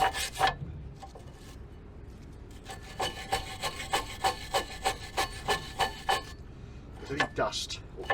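Anti-squeal brake shims from a Eurobox front brake being wiped and rubbed clean, a steady series of short scraping strokes close by, with a brief pause before the rhythm resumes.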